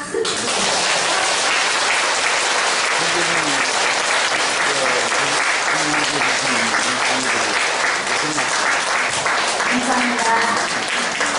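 A church retreat audience gives a priest sustained, dense applause lasting the whole stretch, loud and even, with faint voices murmuring underneath.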